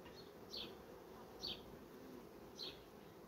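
A steady, faint hum of many buzzing honeybees, with a few individual bees whizzing close past at intervals.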